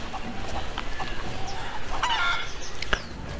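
Chicken clucking in the video game Rise of the Tomb Raider, with short fowl calls over a busy game soundscape that carries steady background noise, the clucks fairly close but not dominant.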